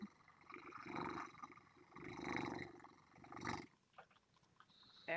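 A cat purrs close up, with a rhythmic rumbling in several long pulses and no talking.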